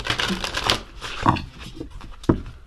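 Oracle cards are shuffled close up in a few quick riffling bursts, separated by short pauses, with a sharp snap near the end.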